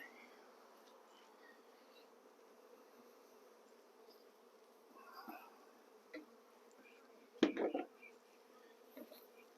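Honeybees drone in a low, steady buzz around an opened hive box with brood frames, with a louder burst of buzzing close by near the end.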